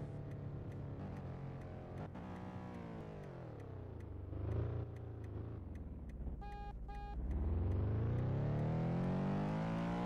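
A stock Honda EK9 engine revs loud and close with a continuous harsh drone that dips, then climbs into a long rising sweep near the end, with no talking.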